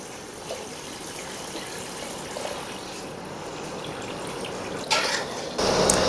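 Water poured into a pot of soaked rice while cooking chicken biryani, a steady trickling gush that grows louder near the end, close by with no talk over it.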